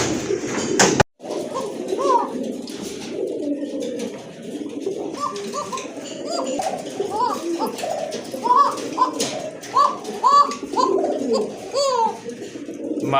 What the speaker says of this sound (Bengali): এক জোড়া কোকা কবুতর খুবই ভালো মানের কোকা কবুতর অনেক ভালো ডাকে